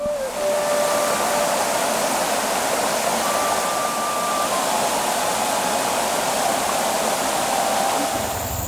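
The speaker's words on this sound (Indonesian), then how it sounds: "Di sana air terjun tersebut" Waterfall in the Kahung valley, Indonesia, roaring as a steady, loud broadband rush of falling water, close and continuous with no pauses, a few faint tonal whines riding over the wash.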